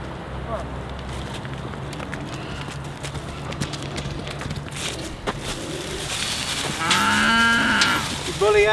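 Cattle on a homestead moo loudly and repeatedly at close range, with hoof clops and a person calling to the herd over the lowing.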